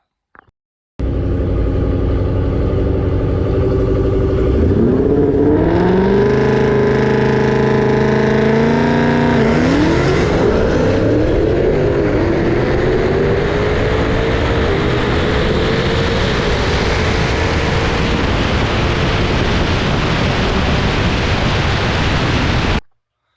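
A Dodge Hellcat on drag slicks launches hard down the strip, its engine roaring loud and close through rising gear pulls with clear upshifts over about twenty seconds of full throttle, no talk.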